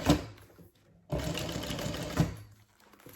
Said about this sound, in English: When you top stitch, you can start from the very edge, okay?